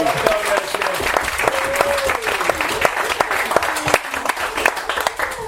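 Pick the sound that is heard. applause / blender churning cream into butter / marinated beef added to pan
applause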